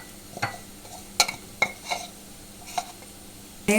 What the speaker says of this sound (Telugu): ఇప్పుడు ఇట్లా వేగాలి.